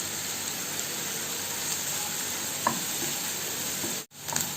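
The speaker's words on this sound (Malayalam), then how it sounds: "ഇത് നന്നായിട്ട് വഴറ്റിയെടുക്കണം" Onions, ginger and garlic sauté in a pan for Kerala squid roast, giving a steady, moderate hiss and sizzle with a couple of faint stirring clicks and a brief dropout near the end.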